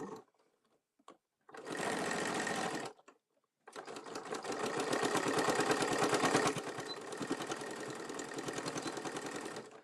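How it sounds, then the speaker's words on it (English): Sewing machine running a straight stitch with backstitching at the corners, starting with short bursts of stitching, then a longer continuous run that shifts in pace as it reverses, close and clear. "And then I simply am going to give it a straight stitch."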